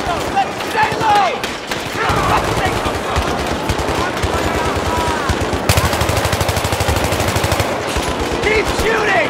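Battlefield 3 video game combat with rapid bursts of automatic gunfire and repeated shots, loud and close throughout, with shouted voices mixed in.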